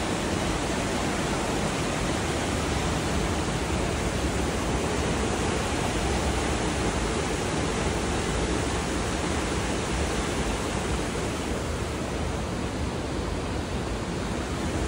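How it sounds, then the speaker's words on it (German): Steady, loud rushing of sea water, like ocean surf at night, fills the whole stretch as a dense, unbroken roar with no voices or other sounds. "Von daher Meeresrauschen."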